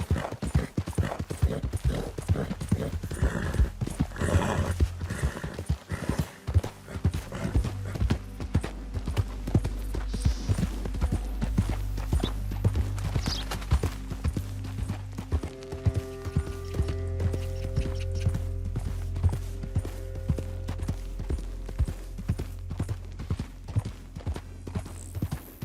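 Horse hooves trot steadily in Red Dead Redemption 2, a continuous close clip-clop over low game sounds with sustained tones in the background.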